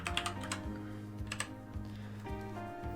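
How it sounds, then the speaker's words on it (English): Quick, light keystrokes tap on a computer keyboard, close and fairly quiet, in an uneven run of clicks over a soft hum, with no voices. "I gotta pause so I can type this real quick."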